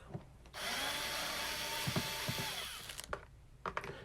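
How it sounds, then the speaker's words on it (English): A cordless screwdriver backs screws out of a Danner AP-20 pond pump, whirring steadily for about two and a half seconds with small clicks and taps of handling around it, quiet and close. "if you have a cordless screwdriver, these come in handy too"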